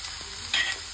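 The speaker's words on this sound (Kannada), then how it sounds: "ಚೆನ್ನಾಗಿ ತಿರ್ಸ್ಕೊಳ್ಳಿ." Pressure-cooked kabuli chickpeas are stirred in a hot pan. A brief, close sizzle is broken by a quick scrape of the spoon, with no speech.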